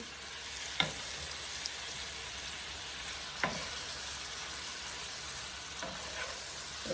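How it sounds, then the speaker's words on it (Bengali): Radish bhaji frying in a pan with onion and green chili, a steady soft sizzle running throughout with a few sharp clinks of a spatula stirring, close and moderately loud, no talking. "ভাবেই ভাজি করছি পেঁয়াজ কাঁচামরিচ দিয়ে দিচ্ছি"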